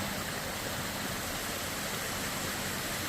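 A mountain creek in the Pennsylvania woods rushes steadily, a dense continuous wash of flowing water heard close and fairly loud, with no talking.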